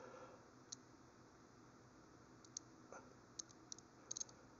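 An SK X-Frame ratchet wrench gives a few faint, sharp ratcheting clicks, spaced irregularly and then bunched near the end, against a steady background hiss.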